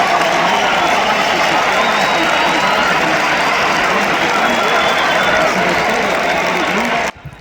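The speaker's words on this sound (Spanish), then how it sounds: "entre aplausos se va hormiga" Stadium crowd applauding as a player leaves the pitch during a football match, a dense, loud, continuous wash of clapping and cheering that holds evenly before cutting off abruptly at the end.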